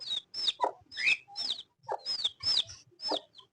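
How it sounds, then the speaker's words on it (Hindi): Chickens and tiny chicks kept at home, a series of high-pitched chick cheeps and soft hen clucks in quick repeated bursts, close and fairly quiet. "और हमारे नन्हे से चूजे"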